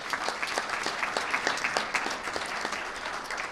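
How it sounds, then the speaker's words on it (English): A round of applause for honored guests at a New York governor's event on gun violence and crime, with crisp, close, evenly paced clapping from a modest crowd that keeps up steadily throughout. "Let's give them a round of applause as well"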